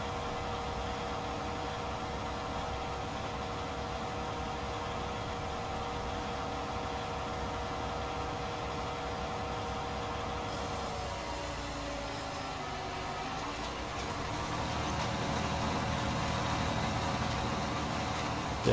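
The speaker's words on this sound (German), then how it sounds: "Hier ist es Traktor und Sämaschine." A tractor hitched to a seed drill idles with a steady, even mid-pitched engine hum and vibration, alone and unchanging, swelling slightly louder near the end.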